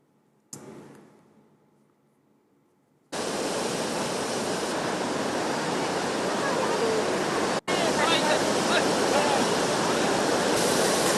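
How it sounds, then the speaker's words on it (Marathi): Godavari river water rushing through its riverbed during monsoon rain, a steady loud broadband roar that begins abruptly and continues without pause, preceded by a brief quiet moment. "गोदावरी नदीपात्रामध्ये पाण्याचा प्रवाह काहीसा कमी झालेला आहे"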